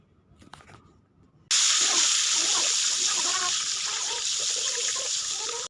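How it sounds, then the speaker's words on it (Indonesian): Shallots, garlic, chili and tomato hit a hot pan with a sudden loud sizzle after a quiet start, then keep frying as a steady, close, hissing crackle. "kita masukkan cabai dan dilanjut kita masukkan tomat. Kita tumis lagi ya"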